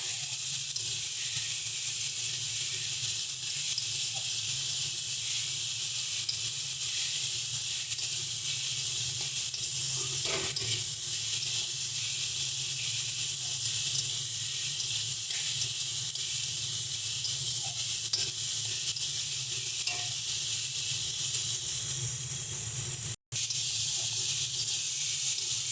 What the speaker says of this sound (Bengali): সমস্ত মশলাগুলোকে ভালো করে ভেজে নেওয়ার পর